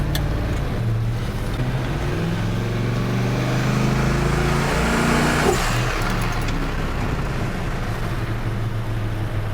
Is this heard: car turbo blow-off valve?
yes